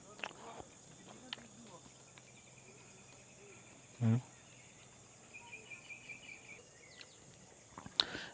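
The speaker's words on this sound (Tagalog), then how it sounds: "Yung mga ingay ng kaliskis ng mga grasshopper." Insects chirp steadily at a quiet mountain campsite in a pine ridge in Bukidnon, with grasshoppers among them, a thin continuous high buzz under faint scattered footsteps and a single brief low thump.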